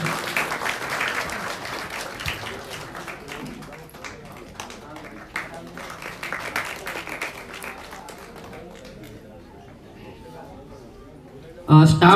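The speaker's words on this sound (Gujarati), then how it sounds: "જોરદાર તાળીઓ એમના માટે" Clapping from an audience at a primary school farewell for teachers; moderate, steady applause that fades out over the clip, followed by a brief loud burst at the very end.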